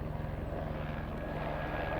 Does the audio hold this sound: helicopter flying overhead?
yes